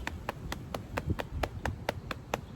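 In a seniors' memory exercise, hands slap against the thighs in a steady run of about ten beats. Each hit is a soft, thumping slap with a duller low body than a clap.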